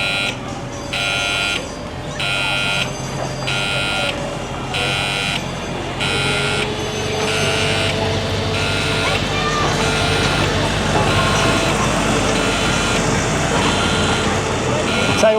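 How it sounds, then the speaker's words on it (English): Ride buzzers sound in a regular on-off pattern as the Polperro Express train departs at a theme park, loud and nearby, while the rumble of the moving train grows beneath them. "When you hear the buzzers, you know it's coming out just here."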